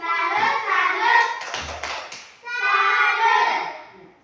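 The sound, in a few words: class doing a rhythmic clapping cheer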